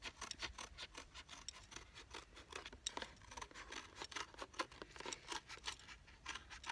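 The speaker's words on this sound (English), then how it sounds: "I'm going to cut this circle out of this cardboard." Scissors snip through a cardboard circle up close, a steady run of quick rasping cuts with no pauses and no talk.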